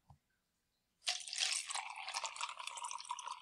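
Water is poured into a container holding a mixture of rocks and beads during a classroom demonstration of separating mixtures. After a tiny tap and a second of quiet, a continuous close splashing, trickling pour begins and keeps going.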